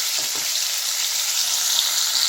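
Potato pieces fry in hot oil with a loud, continuous bright sizzle, steady and close throughout, with a couple of soft stirring knocks at the start.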